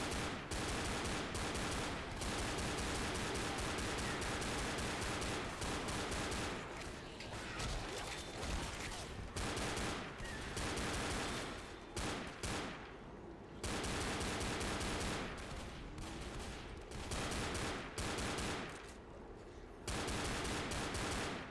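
Pistol gunfire from a video game, with dense rapid shots packed almost continuously and only brief pauses, loud and close throughout.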